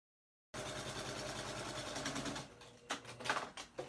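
A serger sewing machine stitches through a quilt-as-you-go quilt. It starts abruptly after a moment of silence and hums steadily up close, then gives way to uneven stop-and-start bursts and shuffling near the end.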